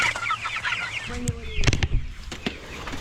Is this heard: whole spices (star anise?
no